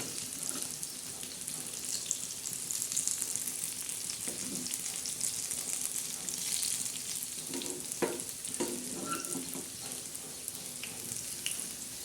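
Green chilies coated in gram flour batter fry crisp in hot oil, a continuous close sizzle and crackle with occasional stirring clinks.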